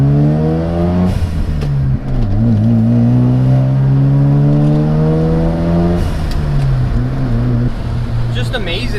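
A Mazda RX-7 FD sports car engine idles and revs steadily, its deep tone rising and falling in pitch, loud and close throughout.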